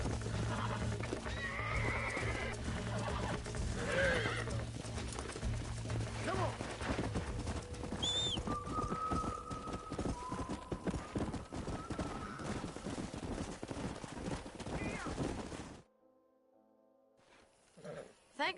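A horse in Red Dead Redemption whinnies and neighs while its hooves clip-clop steadily and close by, with other game sounds and faint voices mixed in, before everything drops away near the end.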